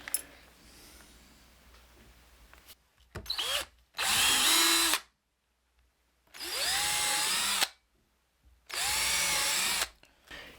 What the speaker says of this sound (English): And now I can pre-drill this.